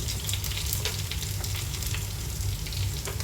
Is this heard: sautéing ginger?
yes